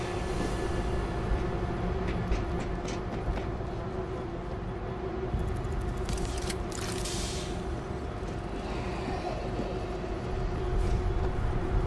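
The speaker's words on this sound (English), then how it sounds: "Train going." A train in the World War Z game's New York level rolls along with a continuous dense rumble and mechanical clatter, steady and loud for about twelve seconds with occasional metallic clanks.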